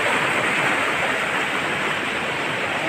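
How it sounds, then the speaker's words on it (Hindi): A swollen river in flood runs high through hilly, wooded country, giving a loud, continuous roar of rushing water that holds steady and close throughout, with no voices. "नदी का पानी बहुत ही ज़्यादा हो गया।"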